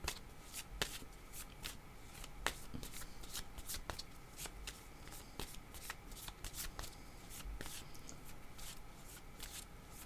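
Tarot cards are shuffled by hand in a quiet room, a run of crisp riffling bursts and soft flutters repeating steadily with no talking.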